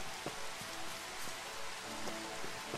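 Rainfall in Final Fantasy XV (Platinum Demo) forms a continuous, moderately loud wash, dotted with scattered soft droplet ticks and faint low tones.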